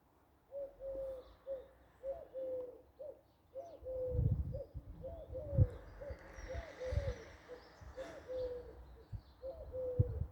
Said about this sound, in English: could you hear the pigeon, the wood pigeon calling?